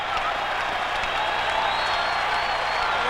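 A baseball stadium crowd of about 25,000 at a Red Sox versus Twins night game lets out a broad, steady collective exhale, a dense sustained wash of crowd noise with faint murmurs, lasting throughout.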